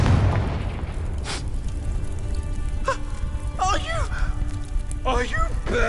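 A Confringo fire spell explodes in Hogwarts Legacy with a heavy, loud boom right at the start, followed by rumbling game ambience, while voices talk and cry out over it.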